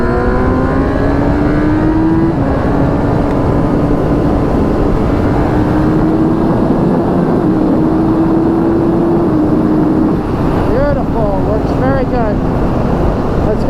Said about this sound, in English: let's go on the bike real quick and we'll see how it works. So we're going to test this quick shifter.